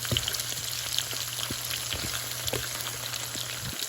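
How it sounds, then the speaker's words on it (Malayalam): Paneer pieces frying in oil in a pan, a dense continuous sizzle with scattered pops and crackles, close and steady with no talking. "ഇനി അടുത്ത സൈഡിൽ പനീർ ഇതുപോലെ നന്നായിട്ട് ഫ്രൈ ആയിട്ടുണ്ട് രണ്ട് സൈഡും"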